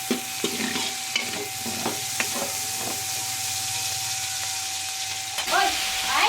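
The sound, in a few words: onion and garlic sautéing in a pan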